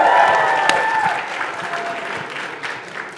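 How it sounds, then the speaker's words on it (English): Applause from a crowd of Draper University students at a crypto regulation talk. Dense clapping fills the room and fades gradually over a few seconds, with no talk over it. "we got a lot of applause from Draper University students"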